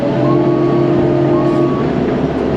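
A CAT 308 excavator engine idles back up, a steady loud low-pitched drone with a faint tonal whine rising in the middle, continuous and close.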